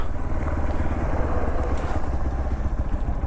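A motorcycle on a weekend ride near Hyderabad, its engine a loud continuous low throbbing drone close to the listener, steady throughout with rushing wind noise layered on top.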